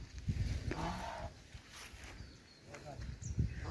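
A Khillar cattle calf moos faintly a few times on a farm, with people talking and footsteps nearby over it.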